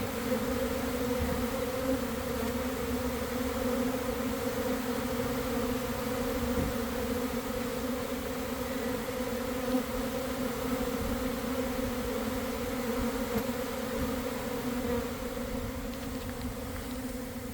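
Honeybees fan and buzz at the entrance of a hive during a swarm capture, a steady dense drone that holds level and close throughout with no pauses and no voices.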